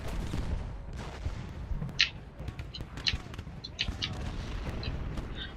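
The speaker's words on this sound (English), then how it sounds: "I might bring my sharpshooters around and see if I can't get some shots into these guys" Musket and artillery fire from the Ultimate General Gettysburg video game: scattered distant battle reports and sharper crackling volleys go off at irregular moments over a rumbling background, with no talk.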